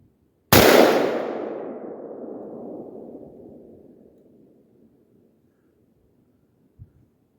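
A single AR-15 rifle shot fired one-handed outdoors, a sharp loud crack followed by a long rolling echo that fades over about four seconds, with a faint thump afterward.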